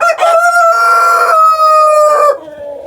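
A backyard rooster on a small farm crows once, a loud, close, drawn-out call with a rising start and a long sustained middle before it trails off.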